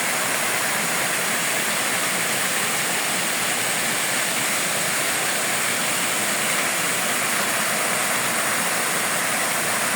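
Water rushes steadily and loudly in a continuous broadband roar, like a fast stream or small cascade close by at a waterfall in the Philippines, with no voices.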